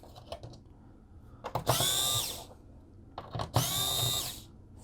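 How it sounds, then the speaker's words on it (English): A powered screwdriver backs out T8 screws from a PlayStation 4 Blu-ray drive, heard as two separate close whirring bursts of about a second each, with light handling clicks in between. "Take out all these T8 screws."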